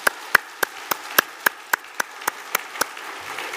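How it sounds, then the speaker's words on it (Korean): A church congregation at a Lenten early-morning prayer service gives a sparse round of claps, about a dozen sharp, evenly spaced hand claps in a steady beat that fade toward the end. "우리 교회의 또 다른 희망인 우리 구교 위에서 뜨거운 박수로 감사해 주십시오"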